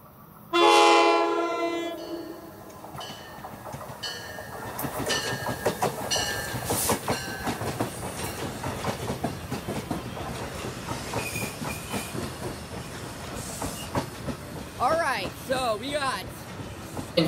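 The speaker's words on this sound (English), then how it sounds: "we'll catch another MARC commuter train going south, number 525, with another cool horn show" A southbound MARC commuter train, number 525, passes near BWI, its horn sounding loud, tonal blasts at the start and again near the end, over a continuous clickety-clack of wheels and rumbling cars.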